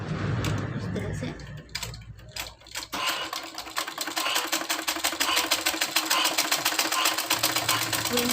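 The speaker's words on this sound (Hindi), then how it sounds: "इस तरह से इसके ऊपर डाल लेंगे और हम सिलाई चला लेंगे" A sewing machine stitches baby frock fabric, starting with a few uneven bursts, then running in a fast, steady, close rhythmic chatter; a voice talks faintly near the start.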